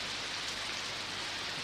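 Steady rain falls in an even, close hiss with a dense patter of drops and no pauses.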